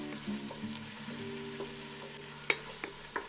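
Chopped green onions and onions sizzling softly in a pot, a steady quiet frying hiss broken by a few light clinks and stirring taps close by.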